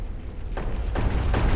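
A rolling boulder in Dark Souls rumbles closer, heavy low booming with a few dull thumps spaced about every half second, loud and up close with no voices.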